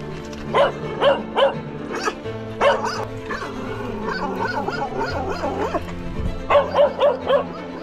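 Several dogs bark in bursts at an animal shelter near the front line in Kherson region, loud close yaps in quick sets of three or four with whines between, and brief talk.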